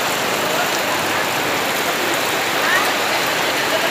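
Heavy rain pouring down on the way to a farm, a dense, steady hiss of drops hitting surfaces, loud and unbroken throughout with no voices.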